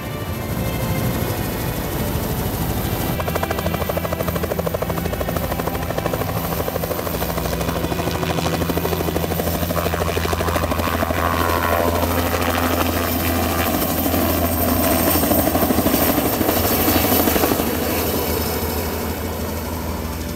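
Helicopter flight from a base to the border of Sarek National Park, its rotor and engine a loud, steady low drone that holds for the whole stretch, close and continuous with no voices.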